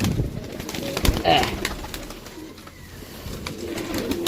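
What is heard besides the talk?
pigeons cooing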